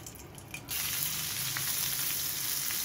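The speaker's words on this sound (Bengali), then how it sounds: "ওই তেলের মধ্যেই এখন সম্বরা ফোড়ন দিয়ে নিলাম" Whole spices for a Bengali phoron temper hit hot oil, jumping from a quiet start into a steady, bright, continuous sizzle that holds evenly at close range, with no voices.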